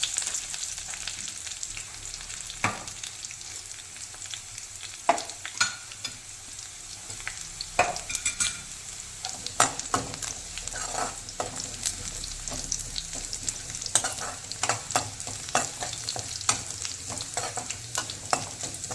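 Curry leaves crackle and spit in hot oil while being stirred for a fish curry, a steady close sizzle broken by sharp pops and scraping strokes for the full length, with no talking.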